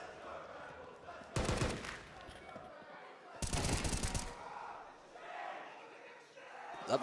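Two loud bursts of automatic gunfire from a Counter-Strike esports match, each lasting about a second, with crowd and caster chatter in between.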